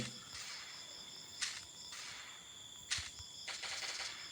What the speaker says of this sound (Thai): ถ้าเป็นปืน M16 เนี่ยเอาไปยิงนะครับมันก็จะกระเด็น